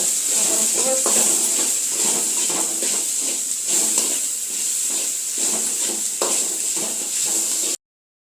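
Carrots with ginger garlic paste stir-fry in a pan for veg noodles, giving a continuous loud sizzle and hiss with irregular stirring scrapes throughout before stopping abruptly.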